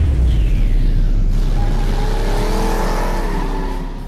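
A car engine roars steadily and loudly throughout, its revving pitch rising and sweeping upward, close by with no talking.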